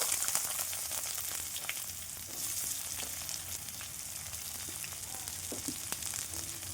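Chopped onion frying in hot oil with mustard seeds, cumin and curry leaves for flattened rice cutlets, a steady dense sizzle and crackle with faint occasional stirring, close and alone.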